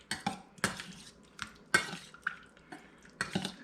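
Utensils clink and scrape against a bowl in quick irregular strokes while mixing tuna poke, with soft wet squishing between taps, close and fairly quiet.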